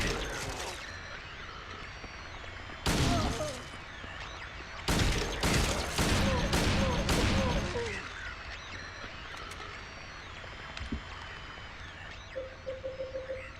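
Gunfire in the horror video game Silent Hill 2: a single loud burst, then a rapid cluster of several shots close together, with someone talking over the game sounds.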